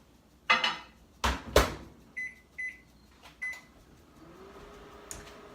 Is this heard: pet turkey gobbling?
no